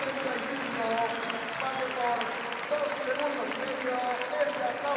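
Sustained applause from a crowd at a Longines FEI Jumping World Cup qualifier after Spain's show jumping round, a dense steady clapping with a commentator talking over it.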